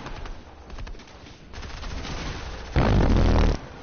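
Submachine gun fire in a video game crackles as rapid bursts under game noise, ending in one loud, dense sustained burst near the end.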